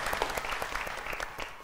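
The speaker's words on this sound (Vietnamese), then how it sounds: "Vỗ tay." Audience applause, a short burst of brisk, even clapping from a group, moderately loud and steady throughout with no voices over it.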